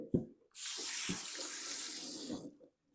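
Tap water runs steadily into a kitchen sink for about two seconds while a chopping board is rinsed, with brief knocks and handling sounds just before and after the flow.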